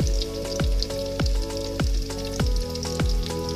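Cashew nuts frying in hot oil for a Bengali pulao, a steady sizzle punctuated by regular bubbling bursts roughly every half second, close and fairly loud with no talk.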